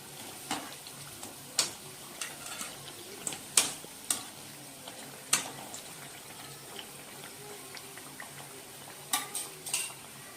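Jackfruit seed vadas frying in oil, a soft continuous sizzle with scattered clinks of a utensil against the pan as the pieces are turned, quiet and close.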